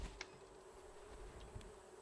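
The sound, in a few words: bees buzzing in the video game Raft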